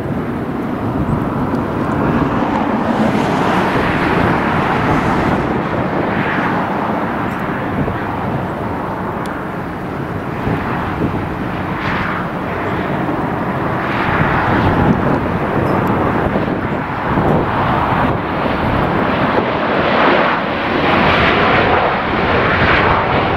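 A fixed-wing airliner roars loud and close at Los Angeles International Airport, a broad rumbling engine noise that swells and holds steady for over twenty seconds.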